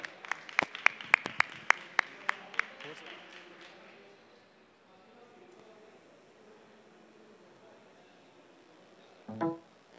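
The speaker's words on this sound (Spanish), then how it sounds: "Quiero que me ayuden ustedes a darle un fuerte aplauso a este emprendedor." A business pitch marathon audience gives an entrepreneur scattered applause: a handful of sharp, separate claps over the first few seconds, fading into quiet room tone with a faint voice near the end.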